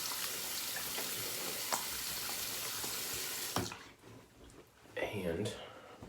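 Water runs steadily from a bathroom sink tap while a face is rinsed, then cuts off into quieter splashes and handling sounds, with a voice speaking.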